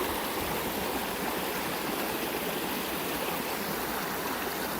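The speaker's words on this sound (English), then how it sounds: "Just a massive amount of water." A flooded creek rushes in a loud, unbroken torrent of water, roaring steadily and close by with no voices.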